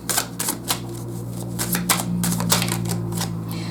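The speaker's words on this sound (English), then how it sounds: "let me just pull a couple more cards here" Tarot cards are shuffled and pulled from a deck, giving a burst of quick, crisp clicks and flicks close by over a low steady hum.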